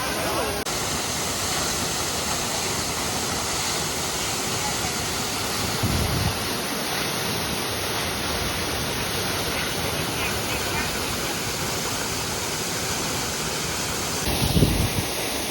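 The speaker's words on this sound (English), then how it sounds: "Oh damn, that is a violent waterfall." A violent waterfall crashes through a narrow gorge in Spain, a loud continuous roar of rushing water close by, with brief gusts of wind and a voice speaking over it.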